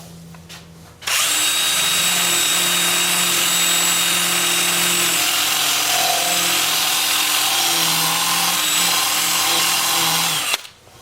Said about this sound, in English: Then I'm going to switch to my 2-inch sanding disc with 80 grit